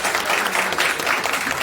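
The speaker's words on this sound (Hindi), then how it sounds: "तो एक जोरदार तालियों के साथ" Audience applause at a Doctor's Day event held by a hospital, a dense steady patter of many hands clapping throughout, fairly close and even.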